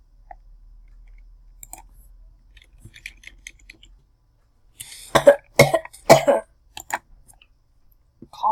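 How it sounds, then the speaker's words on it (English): After a quiet stretch, a few sharp coughs burst out close by in quick succession, followed by softer clicks and faint sounds. "Cough, cough, cough."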